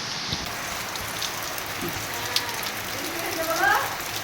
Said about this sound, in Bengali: এই বৃষ্টিটা হচ্ছে, এটা ঠিক আছে, মাটিও ভিজছে